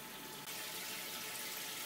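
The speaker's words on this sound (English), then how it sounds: "I am filling the tank up, but I'm still using the water out of this bucket through a pump" Water from a bucket pumped into a Red Sea Max 250 aquarium tank during saltwater setup, a steady continuous rushing and splashing close by, with no talk.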